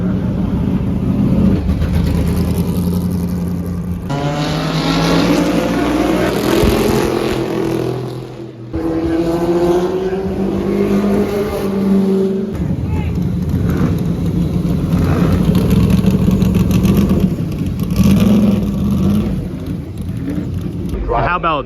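A classic early Honda Formula 1 car, driven by Richie Ginther at the Rolex Reunion 2024, roars past with a loud, rising and falling engine wail, mixed with crowd noise and commentary.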